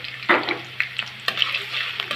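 Green chillies and sliced onion frying in hot oil in a pan, with a close crackling sizzle broken by several scraping stirs of a spoon and no talk over it.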